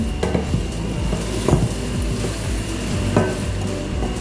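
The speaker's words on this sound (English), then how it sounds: "while this is frying" Steady sizzling and crackling of rice frying in a pan for Nigerian fried rice, with occasional scraping and stirring clatters, close up and fairly loud.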